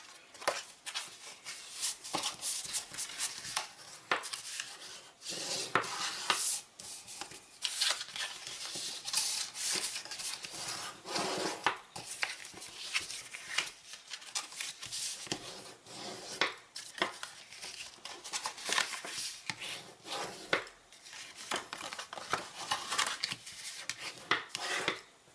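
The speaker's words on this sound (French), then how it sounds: "on va venir marquer nos plis à l'aide de notre plioir" Paper folds pressed and creased with a bone folder while making a small gift box, heard as soft rubbing, scraping strokes that repeat steadily throughout, fairly close and with no talk.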